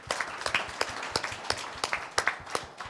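Applause from a press-meet audience for the parents, aunt and uncle behind Isai Empire, a dense patter of many hands clapping steadily for about three seconds, fairly loud and close with no talking.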